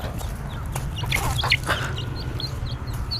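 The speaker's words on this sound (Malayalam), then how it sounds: "ഇതാണ് നമ്മുടെ നാടൻ കോഴി" A native country chicken clucking nearby in a series of short, sharp calls over a steady low background rumble.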